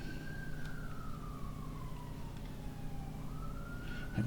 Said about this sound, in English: Ignore the ambulance going past.